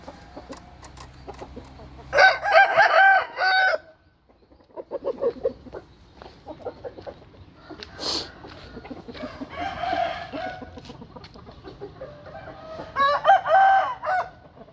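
Two fighting roosters of the same bloodline crow and cluck nearby at dawn, with loud crows around two, ten and thirteen seconds and softer clucking and rustling between them, no talk.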